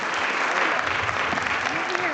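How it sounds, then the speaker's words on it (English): An audience applauds Southern Oregon Elmer's, a thick, continuous wash of clapping from many people, loud and even throughout, with a few voices faintly mixed in. "I want you guys to also give a warm round of applause for Elmer's, Southern Oregon Elmer's."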